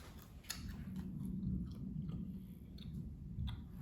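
Someone chews thin, crunchy air-fried pepperoni chips close up, making soft crackling bites and steady mastication at low volume with no talking.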